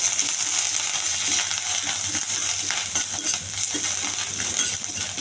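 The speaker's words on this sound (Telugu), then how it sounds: "కొంచెం బాగా వేగాలండి." Curry leaves frying in a little oil in a pan on the stove, a steady close hiss of sizzling with faint scraping and light clinks, no voices.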